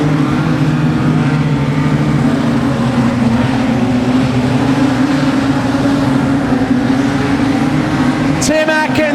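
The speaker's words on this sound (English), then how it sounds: "The car coming up onto the infield." A production sedan race car rolls onto the infield at Kingaroy Speedway during a Queensland Title B-Main, its engine a steady loud drone amid other track noise, with a commentator talking throughout and a brief sharp change near the end.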